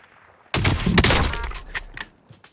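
Gunfire in the Warzone battle royale game: a sudden loud burst of shots starts about half a second in, dense rapid cracks for a second, then thinning into scattered single shots, with no talk over it.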